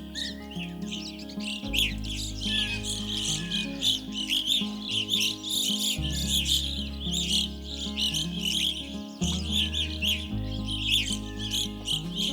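A large flock of evening grosbeaks gives loud, burry calls in a forest, many overlapping chirps mixed with other finches, running continuously over a steady musical bed.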